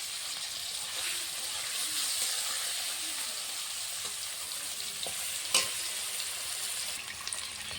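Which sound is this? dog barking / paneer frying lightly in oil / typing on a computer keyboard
paneer frying lightly in oil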